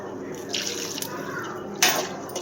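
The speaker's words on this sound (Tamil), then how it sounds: "கொஞ்சம் தண்ணி சேர்த்துக்கலாம்." Water is poured from close by into a pan of okra masala gravy, making a soft, continuous splashing trickle with two brief, brighter surges.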